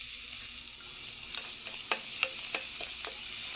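Garlic frying in melted Star margarine for sisig, a steady bright sizzle with several clicking stirs of a utensil against the pan partway through, close and without talk.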